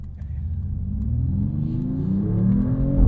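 A 604hp Mercedes-AMG E53 wagon's inline-six pulls hard under acceleration, its engine note rising steadily in pitch and growing louder over about three seconds with no voices.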